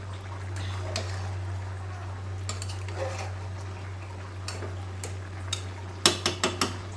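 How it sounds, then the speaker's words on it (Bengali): A spoon stirring a gourd curry in a metal cooking pot, faint scrapes and light clinks over a steady low hum, ending in a quick run of sharper knocks against the pot. "এখন তরকারিটা একটু নাড়ি দেব"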